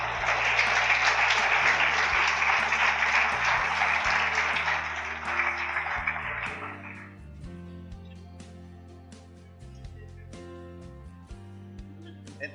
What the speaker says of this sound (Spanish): Sea inteligente, aplauda a Cristo.